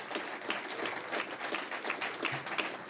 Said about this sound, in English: Now we should clap double hard for both